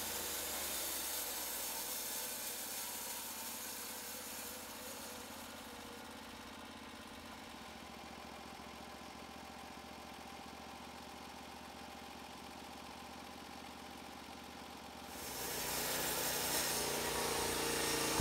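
Portable band sawmill, a Norwood LumberPro HD36, with its engine running steadily throughout, a continuous mid-pitched drone with hiss that eases slightly in the middle and grows louder near the end; no talking.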